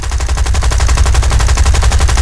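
An aircraft gunner's machine gun in War Thunder fires a loud, continuous rapid burst of evenly spaced shots with heavy low thump, close and sustained throughout.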